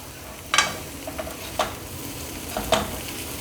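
Prawns roasting in a pan for a Kerala prawn fry, with a low steady sizzle broken by three or four brief scraping stirs spaced across the moment, fairly close and without talk.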